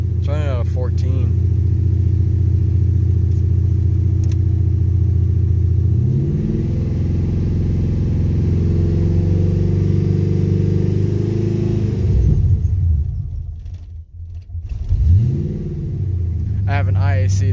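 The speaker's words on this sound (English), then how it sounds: "But overall, the engine's running pretty perfect." Car engine fitted with long tube headers idling with a steady low rumble, the idle dipping and surging as it hunts and nearly stalls near the end; a voice talks over it.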